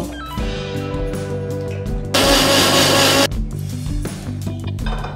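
An electric blender grinds poppy seeds, mustard seeds, green chillies and water into a paste, whirring steadily at close range with a louder, harsher burst midway before easing back.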